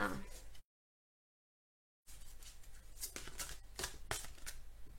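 Oracle cards being shuffled, quiet papery riffling and soft flicks, a short burst at the start, a gap of silence, then a few seconds of continued shuffling with sharper card snaps.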